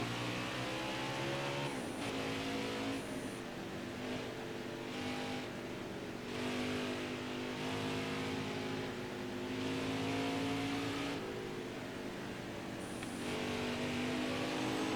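A NASCAR Xfinity race car at Road America in the NASCAR Heat 5 video game roars loudly as it accelerates, its engine pitch climbing and dropping through repeated gear shifts over a steady, close drone.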